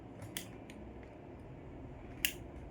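Tank cap on a Motorstar Z200S motorcycle pressed to unlock, giving a few small, faint metallic clicks, with one crisper click near the end over a low background hum.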